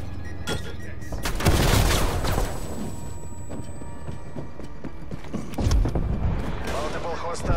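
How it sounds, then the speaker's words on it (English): Sentry turret gunfire in a military video game, sharp bursts of shots and mechanical clatter rising twice over a steady game soundscape, with brief radio-style voice callouts. "Hostile sentry turret active."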